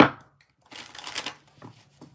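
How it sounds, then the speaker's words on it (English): Tarot cards being shuffled close by in a short riffling burst, followed by a few soft taps and flicks. "Let's shuffle these cards for a minute."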